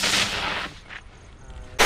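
Firecrackers go off during fireworks testing for Diwali: a loud, crackling burst of rapid pops that fades into a quieter lull, then a sharp new blast close by at the end.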